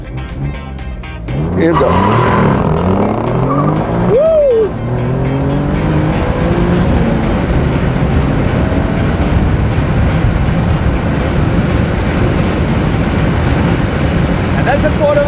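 A remapped Alfa Romeo Giulia Quadrifoglio launches hard from a standstill for a quarter-mile run on an airport runway, its engine roaring loudly and steadily through rising gears, with someone speaking briefly at the start.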